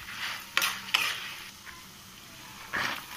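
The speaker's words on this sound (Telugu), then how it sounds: "ఇప్పుడు ధనియాలు వేసుకొని వేయించుకుందాం. ఇవి మొత్తం మీడియం ఫ్లేమ్లోనే వేయించుకోవాలి." Coriander seeds dry-roasting in a pan over medium flame: a low, steady crackle broken by three sharp scraping bursts from the stirring spoon.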